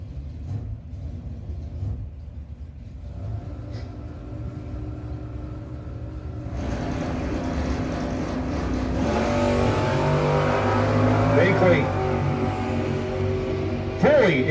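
Drag race cars, including a 1980 Camaro from York Springs, Pennsylvania, at a no-box 660 shootout: a steady engine drone at the starting line swells into a loud, building roar of racing engines in the second half.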